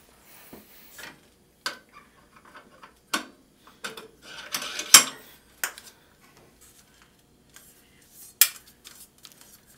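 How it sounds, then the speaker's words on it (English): 35mm picture and sound reels on a film rewind give off scattered mechanical clicks, ratcheting and metallic clatter, quiet and close, in irregular short bursts with quiet gaps between them. "you're going to want to put this spacer in between the picture and the sound reel so that they can spin together in sync"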